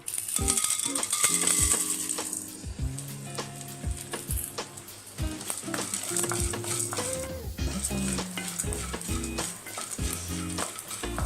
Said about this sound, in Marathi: तूप जरा तापू देऊ आता यामध्ये मी डिंक घालून घेते